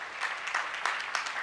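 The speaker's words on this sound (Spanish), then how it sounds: "Un fuerte aplauso para Tiago." Conference audience applauding: a short burst of scattered clapping from a crowd, fairly faint and distant, with a few sharper claps standing out.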